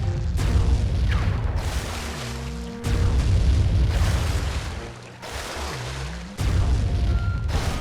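Heavy booms and rumbling blasts from long-range gunfire and explosions in the video game Sly 3, loud, dense and sustained, with a few sweeping tones between the hits.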